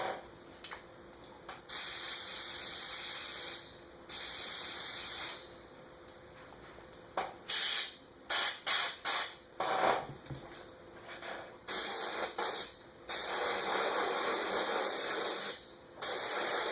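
An airbrush sprays paint onto a bluegill skin mount in repeated bursts of airy hiss, short and long, separated by quiet pauses, close and fairly soft.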